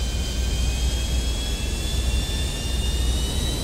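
An airplane in GTA Online flying level, a loud, steady jet engine roar with a faint high whine running throughout, no voices.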